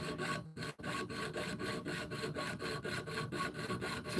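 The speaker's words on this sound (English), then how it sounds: "That's the sound of two lines being cut real close to each other." Rapid rasping strokes of a fine saw cutting two close lines in wooden puzzle pieces, a continuous scratchy back-and-forth close up, with a short pause near the start.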